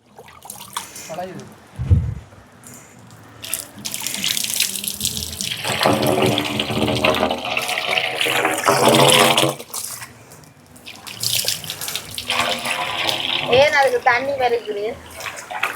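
Water rushes and splashes through a garden irrigation pipe in bursts, loud and close, with people talking and arguing over the flow and pipe couplings.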